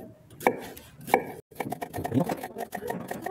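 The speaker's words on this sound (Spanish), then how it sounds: "ahorita lo vamos a echar partido en lunitas" A knife chops a chili pepper into half-moon slices on a board, with two sharp, distinct cuts followed by a run of quicker, softer chopping close up.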